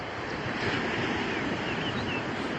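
Steady surf rolls in along the coast at Reebok, South Africa, on a calm, cool early morning, a broad continuous wash of waves with some wind, heard alone without talk.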